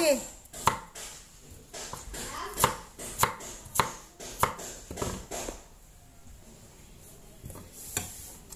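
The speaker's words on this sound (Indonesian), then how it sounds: "saya mau potong-potong dulu ya ini tahu sama jagung mudanya" Tofu and young corn chopped on a cutting board, a series of irregular, crisp knife thuds close up, about a dozen strikes with pauses, then quieter taps.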